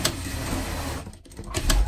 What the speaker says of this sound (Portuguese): Passar uma costura aqui,